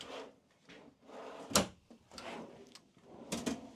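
Drawers slide open and shut several times close by inside a 2002 Affinity, with rolling rumbles and a sharp bang as one closes firmly.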